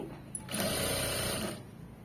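A home sewing machine runs a single short burst of stitching along a seam, a steady close whir lasting about a second amid quiet room noise.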